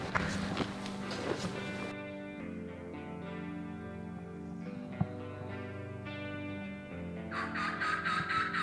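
Wild turkeys calling in a woodland hunting setting, loud gobbling bursts at the start and end with sustained tonal calling between, close and clear with no talk over it.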